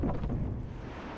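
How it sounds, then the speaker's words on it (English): Wind roars in Zelda: Twilight Princess as a low, steady, gusty rush that fills a short moment without pause. "Very windy."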